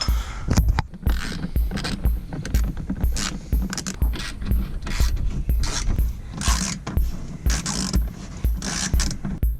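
Bolts and fasteners being undone on the plastic under-tray shielding of a Toyota GT86, with busy ratcheting clicks, metallic scraping and creaks in irregular bursts, close and fairly loud, no talking.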